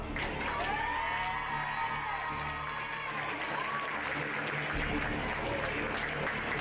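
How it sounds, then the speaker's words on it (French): A crowd applauds at a pony eventing competition arena as riders enter, steady distant clapping under a public address announcer's voice. "Applaudissements!"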